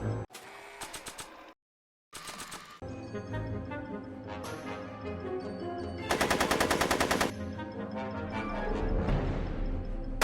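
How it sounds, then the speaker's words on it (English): Rapid automatic gunfire from Back to the Future: The Game, in bursts of loud, close rattling shots. A brief silent gap falls between the opening bursts, then a sustained stretch of firing follows, with a dense, heavy volley near the middle. "Are you shooting at me?"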